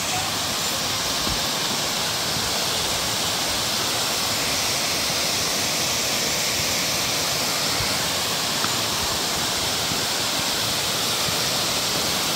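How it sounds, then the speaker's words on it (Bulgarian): Loud, steady roar of a waterfall fills the whole stretch, an unbroken broadband rush with no pauses and no voices over it. "Много хубав водопад."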